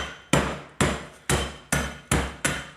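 A pan or pot pounds cookies inside a sealed plastic bag for a cookies-and-custard dessert: seven sharp, evenly spaced thuds, each fading quickly, close and alone.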